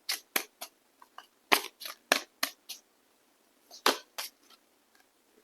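Tarot cards handled during a reading, giving a series of short, crisp card snaps and flicks in uneven bursts, close and fairly quiet, with no talking.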